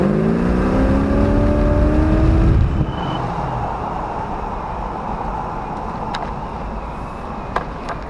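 A 1971 Chevrolet Nova with an LS V8 engine runs, opening with a loud rising rev for a few seconds before settling into a steady, rumbling idle.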